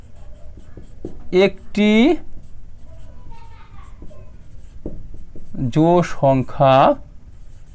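Marker or chalk strokes on a board during a classroom math lesson, a series of short scratchy taps and scribbles, soft and close, interleaved with a teacher's spoken explanation.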